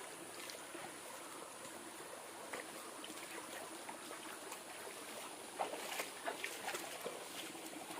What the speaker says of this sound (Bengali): পানির শব্দ পাচ্ছি আমরা।